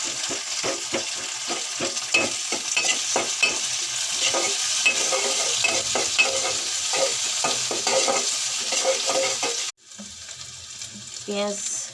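Onions frying in a pan for a chicken curry, stirred with rapid rhythmic scraping strokes over a loud continuous sizzle, then a brief cut to a quieter stretch with lighter sizzling near the end.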